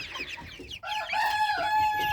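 Chinese silkie chickens clucking up close, a few short clucks followed by a rising, drawn-out call, loud and alone.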